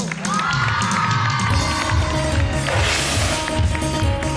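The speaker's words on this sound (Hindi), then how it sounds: "जोरदार तालियों में वेलकम करेंगे सारा" An audience welcomes Sara Khan with loud, continuous cheering and clapping, a dense steady crowd roar with shouts and whistles and voices mixed in throughout.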